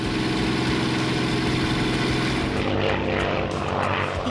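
Steady, loud droning roar of a P-51 Mustang fighter's piston engine and propeller in flight, heard continuously from on board with no speech.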